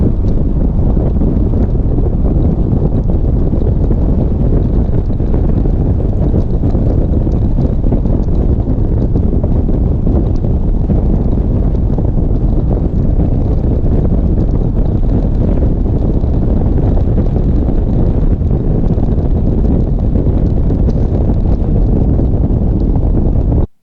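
A Ranger Z521 bass boat runs flat out at high speed, its engine roar blended with heavy, continuous wind buffeting on the microphone from start to finish, loud and unbroken with no voices.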